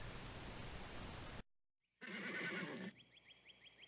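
A horse neighs in a loud, clear whinny from a television sitcom soundtrack, following a burst of hissy noise and a brief silence.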